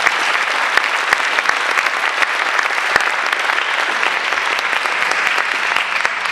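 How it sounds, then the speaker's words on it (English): A congregation at a Sunday service at a spiritual center gives loud, sustained applause, a dense even roar of many hands clapping with a few sharper claps standing out, running unbroken throughout. "Please give him a round of applause."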